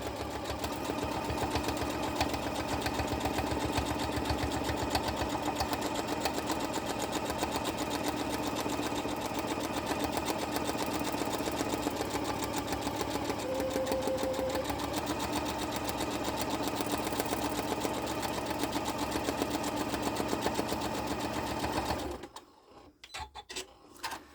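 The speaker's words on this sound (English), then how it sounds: "I'm just going to drop my foot and my needle, and we're going to sew out the cone" A sewing machine stitches an appliqué cone onto fabric in a steady, unbroken run of rapid needle strokes for about twenty seconds, then stops abruptly, leaving a few faint handling sounds.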